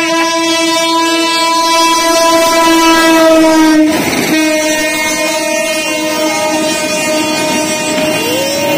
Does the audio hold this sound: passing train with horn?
yes